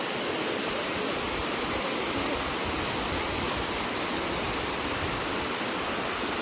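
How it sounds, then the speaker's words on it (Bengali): A waterfall in Shillong, Meghalaya roars as a steady, dense, full-spectrum rush of water, loud and unbroken throughout. "এই যে ফলসটা খুব সুন্দর লাগছে দেখতে। আওয়াজটা সব থেকে বেশি ভালো লাগছে।"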